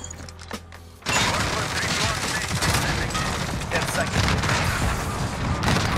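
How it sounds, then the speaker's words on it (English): VTOL air support fires in the Modern Warfare video game, opening with a sudden burst of rapid, sustained gunfire and booming impacts that keep rolling on loudly, with a voice speaking underneath. "let me call this VTOL on"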